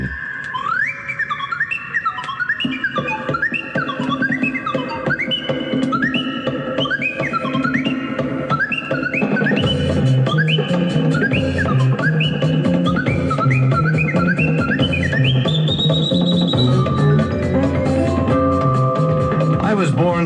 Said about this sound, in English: I'll just keep on whistling